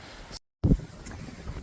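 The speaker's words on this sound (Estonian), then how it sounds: "Ilge tuul on praegu" Strong gusty wind buffets an outdoor microphone, a deep rumbling roar that swells sharply after a brief dropout and keeps blustering steadily.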